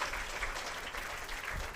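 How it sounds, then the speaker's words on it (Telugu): An audience at a church sermon about Saint Antony claps steadily, a dense, even patter of applause heard from a distance and fairly faint. "చప్పట్లు కొడదామా ప్రియులకు"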